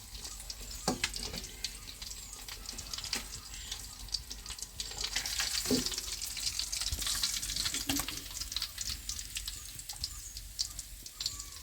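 Jilebi fish (tilapia) frying in hot oil, a steady crackling hiss throughout with a few louder pops and clinks, close and alone with no talking.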